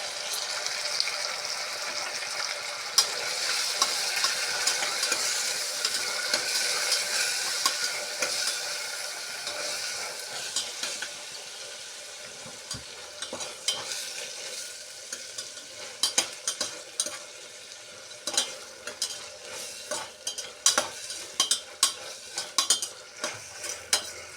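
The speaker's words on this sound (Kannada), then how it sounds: "ಎಲ್ಲ ಒಟ್ಟಿಗೆ ಹಾಕಿ ಫ್ರೈ ಆಗಬೇಕು." Tomatoes and onions frying together in a pot for tomato biryani, a dense hissing sizzle that fades slightly midway, then gives way to frequent clattering stirs and scrapes of a metal spoon, close and steady, with no speech.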